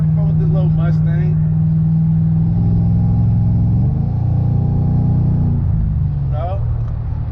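A small Ford Mustang's engine idles, then revs up and settles in a smooth rising and falling drone, close by, with someone talking briefly at the start and again near the end.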